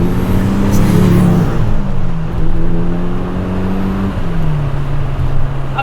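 A Mitsubishi Lancer Evolution 5 is driven hard at speed, its engine drone loud and steady with tones rising and falling as it pulls through the gears over constant road and wind roar.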